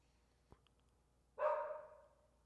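A single sharp dog bark rings out after a faint click, fading with a brief echo in an otherwise quiet space.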